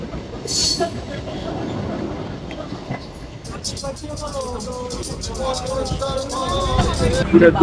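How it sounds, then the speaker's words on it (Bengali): A local train running from Sealdah to Bongaon rattles along the rails with rhythmic wheel clatter and some metallic squeal, growing louder toward the end, while passenger chatter murmurs in the carriage. "এটা একটা লোকাল ট্রেন যার জন্য অনেক সময় লাগে"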